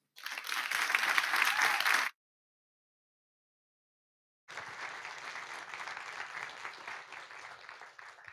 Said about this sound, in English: Ladies and gentlemen, give a warm applause to Sandra Borch.